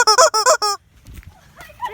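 A pet chicken gives a quick run of five loud, honking squawks close up, followed by quieter rustling and soft noises.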